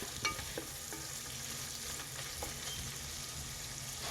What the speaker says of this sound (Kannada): ನೋಡಿ, ಫ್ರೈ ಆಗ್ತಾ ಇದೆ ಈರುಳ್ಳಿ